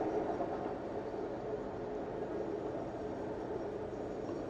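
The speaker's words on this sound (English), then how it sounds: "Then the train comes out the other end." A train rumbles past in a crystal cave in the Satisfactory video game, a steady, faint, even roar with no talk and no break in the noise.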